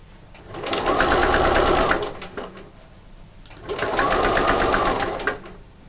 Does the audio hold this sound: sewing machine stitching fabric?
yes